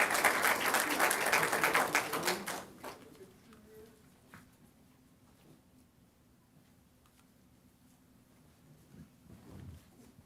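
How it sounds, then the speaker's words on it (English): Applause at an Encinitas city council meeting rings out loudly for under three seconds and then stops abruptly, leaving a quiet room with faint scattered noises. "So we applaud you."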